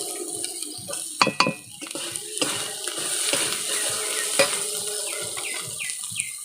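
Crab masala fries in a pan while a utensil stirs and knocks against it, producing bright scrapes and clinks over a low sizzle with a little splashing of water.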